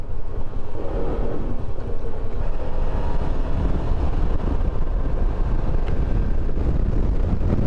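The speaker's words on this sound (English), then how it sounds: "It's already pretty strong. The wind warning goes up at 10." Strong wind buffets the microphone in a continuous loud roar beside a highway with cattle grates, with no voices over it.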